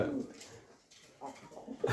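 Pigeons on a pigeon farm keeping fancy breeds such as lakha, modena and jacobin give soft, low cooing in short bursts, faint and close, with some light background noise.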